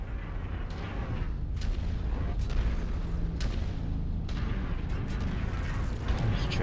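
Mech exploding after a kill in a MechWarrior game, heavy low rumbling booms and blasts, repeated sharp bursts over a dense constant roar, loud and close throughout.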